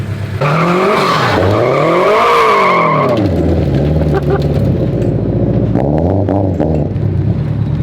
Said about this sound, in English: Think it's gonna do a burnout? Better do one.